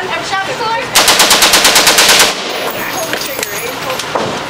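Rapid, loud gunfire from a shotgun at a Las Vegas gun store rings out as a burst of about a dozen closely spaced shots. A quieter stretch with scattered noise and faint voices follows.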